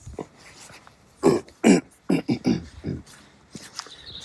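Several harsh throat-clearing coughs from a person with flu, coming in uneven bursts close up in a quiet room, separated by short pauses.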